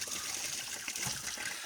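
Rusty water gushing out as a truck engine's cooling system is drained, a steady close splashing flow with no voices.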